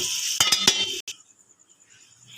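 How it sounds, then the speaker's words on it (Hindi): Metal serving spoon scraping and clinking against a small kadhai while achari chicken is dished out, with a quick run of sharp clinks up close, then a pause before faint light scraping. "अब मैं इसको अपनी छोटी कढ़ाई में निकाल के आपको डिश आउट करके दिखाती हूँ।"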